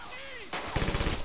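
Machine gun fire in the Red Orchestra 2 shooter game, arriving as a quick burst of rapid cracking shots near the end after a brief quieter stretch, loud and close.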